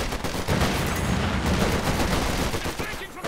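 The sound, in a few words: supporting gunfire in a strategy video game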